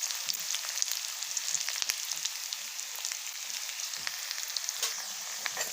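Onions sizzle steadily in a hot pan while being stirred, with red chili added, a continuous close frying hiss broken by soft scraping clicks of the spoon.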